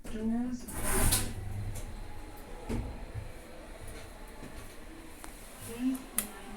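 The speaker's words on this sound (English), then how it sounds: "Doors open." Lift doors slide open in a modernised lift at a shopping centre, a near mechanical rumble and clunk with a couple of sharper knocks, under ongoing talk and an automated announcement.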